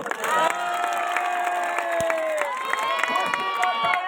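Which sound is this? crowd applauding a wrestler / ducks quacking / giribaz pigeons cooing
crowd applauding a wrestler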